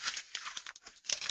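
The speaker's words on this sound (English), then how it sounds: "if you take that dollar bill in your hand and you crumple it up" A paper dollar bill is crumpled by hand, giving a quick series of close, crisp crinkling and rustling bursts with brief pauses between them.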